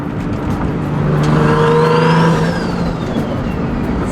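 A car engine revs and pulls away on a street in San Diego, rising pitch as it accelerates and then fading as it moves off, loud and close with no talking.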